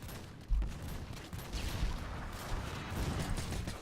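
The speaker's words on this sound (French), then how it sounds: "Là par contre il y a un AC 130." Rapid gunfire from an AC-130 gunship in a Call of Duty game, with a sharp heavy shot at the start followed by a steady dense rattle of fire and mechanical clatter at mid distance.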